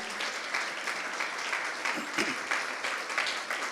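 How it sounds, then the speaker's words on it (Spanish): A church congregation applauds in a short, moderately quiet burst of scattered clapping. It carries on steadily throughout, with faint voices underneath. "Se le va a aplaudir, apláudele a Él."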